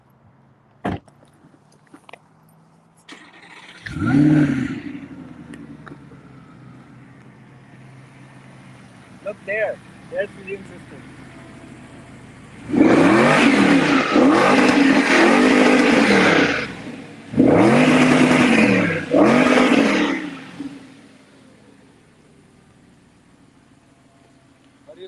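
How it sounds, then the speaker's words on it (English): Audi R8 engine fires up with a loud bark, settles to idle, then blips through two long, hard revs with the exhaust roaring close by; brief speech and a door-like clunk come before the startup. "start the R8 for you guys and give you a little bit of the sound bite"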